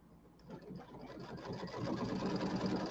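An embroidery sewing machine stitches the bottom piece onto a pillow, a steady mechanical whirring that builds in loudness and runs continuously.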